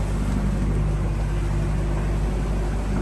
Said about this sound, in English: Engine doing perfect.